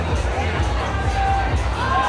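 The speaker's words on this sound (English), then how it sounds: "Lots of cheers from the crowd for Nick Allen." A crowd cheers for a climber at a bouldering competition in Cape Town, a dense wash of shouts and voices close by, with a commentator talking over it.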